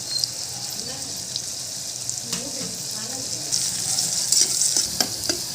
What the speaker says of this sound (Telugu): జోరగా వేయించుకోవాలి కొంచెం లైట్గా